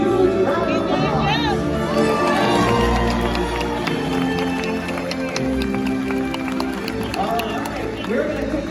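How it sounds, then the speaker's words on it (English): A stadium crowd at a Sea World orca show cheers and claps after the whale's jump while a loud voice keeps talking over the noise. "when he jumps, let's give a huge round of applause"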